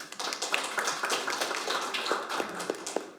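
A seminar audience at a meeting on delayed post-war PTSD and veterans' policy claps for a presenter, with crisp, closely packed hand claps sounding at moderate volume and staying fairly constant, heard on their own.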